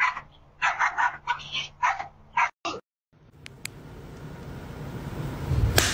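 A big dog barks in a quick run of loud, close yips and barks, then falls quiet, leaving a rising outdoor rumble.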